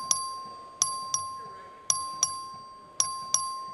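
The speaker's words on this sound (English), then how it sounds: "The clerk will ring the bell." A voting bell in the Texas House chamber rings in seven sharp electric dings, spaced irregularly in pairs and singles, each with a quick decay over a steady tone and low room murmur.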